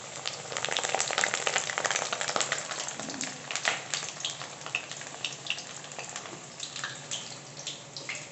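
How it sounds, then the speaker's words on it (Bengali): Potatoes frying in a pan give a dense, steady sizzle with crackling pops and occasional stirring scrapes, close and continuous throughout with no talking. "আলুগুলো একটু ফ্রাই করে দিই"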